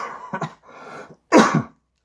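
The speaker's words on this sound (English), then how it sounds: "I have this horrible cough that just will not quit" A person with a persistent, lingering cough hacks a few times: short rough bursts, then a drawn-out throaty stretch, then one louder harsh cough, close and without talk.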